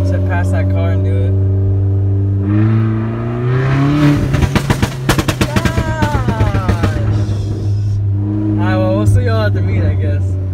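A car revs hard and accelerates at a Houston street race meet, its engine note rising in pitch and rattling through rapid pulses before easing off, loud and close, with people talking over it.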